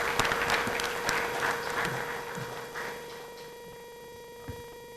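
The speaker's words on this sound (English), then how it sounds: "with a round of applause, let's welcome Dr. Kofi Abotsi" Audience at a Constitution Day public lecture applauding to welcome the lecturer, fairly faint and thin clapping from a modest crowd heard over a steady electrical hum, fading gradually.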